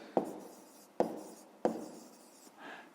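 A pen writes out a math exercise in a few short strokes, each starting with a tap and trailing off into a soft scratch, close and quiet, with no talking.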